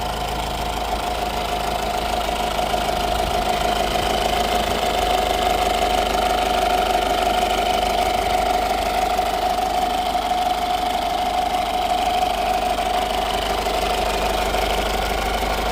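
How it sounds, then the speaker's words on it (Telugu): A Honda Jazz diesel engine idles loudly and steadily up close, a constant low rumble with a faint rhythmic clatter, no voices throughout. "సో ఇంజిన్ సౌండ్ అయితే మీరు చూడొచ్చండి."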